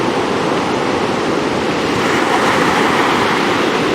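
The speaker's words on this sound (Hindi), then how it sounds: "जो शोर है ना पानी का" Water rushes loudly and continuously near Rishikesh, a broad, steady roar close by with no voices.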